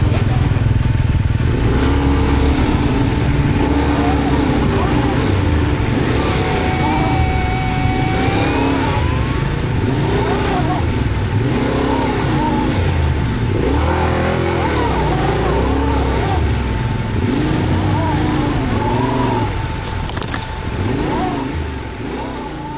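An adventure motorcycle rides dirt trails with a loud, continuous engine drone that rises and falls as the throttle changes. Steady wind and rumble run underneath throughout.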